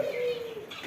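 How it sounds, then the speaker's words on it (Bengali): A caged ringneck dove in a poultry shop gives one close, drawn-out coo that slowly falls, with faint shop noise behind it. "কি সুন্দর করে ডুকি পাখিটা"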